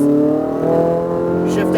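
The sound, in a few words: car engine accelerating at full throttle on race track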